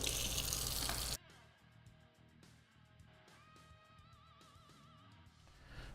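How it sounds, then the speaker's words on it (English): Tap water rinses organic fruit in a kitchen sink: a loud gush for about a second, then the flow stops, leaving faint drips and small clatters. "we do want to give it a quick rinse in the sink"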